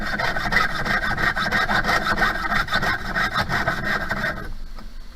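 A hand saw cuts around a corner of a pendant in steady, rapid back-and-forth strokes that rasp continuously and loudly up close, then stop abruptly near the end.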